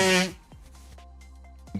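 A single sharp, loud sneeze bursts out at the very start, followed by quiet room tone, faint clicks and a brief murmur near the end.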